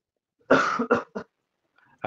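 A burst of several harsh coughs close to the microphone, followed by a brief pause and the start of another cough.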